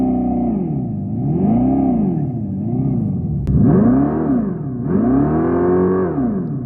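A Dodge Charger accelerates with an artificial engine sound that rises and drops repeatedly, mimicking gear shifts in a steady wavering pattern, heard loud and close from inside the cabin.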